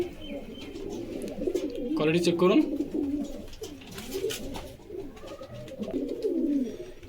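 Pigeons of several breeds kept for sale coo continuously in the background, a low rolling murmur that swells and fades, while someone talks over them.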